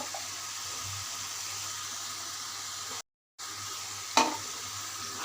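Green chillies and ground nut paste sizzle steadily in a pan, a continuous frying hiss with stirring, briefly cut out by a short silent gap and a sharp clink near the end.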